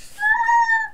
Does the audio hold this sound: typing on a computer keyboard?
no